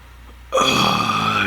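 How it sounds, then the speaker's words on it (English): One loud, rough burp from a person who has been drinking beer starts abruptly after a quiet moment and rumbles on steadily for about a second, close and up front. "I don't think that's why I'm burping right now. It's definitely the beer."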